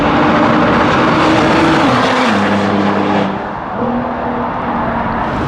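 A loud, continuous roar of a Nissan GT-R racing car engine driving into the pit lane, its pitch dropping as it slows, with tires and mechanical noise blending into a steady din.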